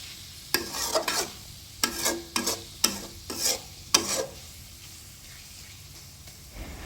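Banana flower fries in a pan as a spatula stirs it in about seven sharp, scraping strokes, each set against a soft, continuous sizzle that fades near the end.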